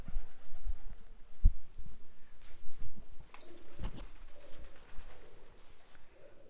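Pigeons coo softly in the open air in Jerusalem, with scattered low calls and wing flutters over quiet outdoor ambience.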